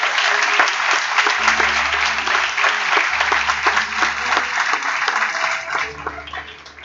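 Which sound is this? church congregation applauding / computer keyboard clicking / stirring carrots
church congregation applauding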